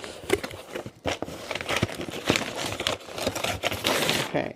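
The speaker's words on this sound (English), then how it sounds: "So we will rip the box apart." Cardboard packaging for a GLP-1 medication box being ripped apart by hand, a dense run of tearing, crinkling and crackling close up, continuous and fairly loud with brief pauses, with no talk.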